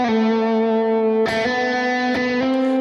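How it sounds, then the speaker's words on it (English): An electric guitar through a BOSS GT unit on the both-pickup position with reverb cranked: sustained, harmonically rich notes ring loudly, with two fresh attacks partway through and a wash of reverb carrying each note. "I'll play this line with just the reverb on and cranked."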